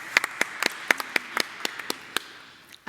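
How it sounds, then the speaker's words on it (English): Sparse, scattered claps from a small audience at a sustainability roundtable session, distinct individual hand claps spaced irregularly and fading out, followed by a brief voice at the end. "Please can we give Jane a round of applause?"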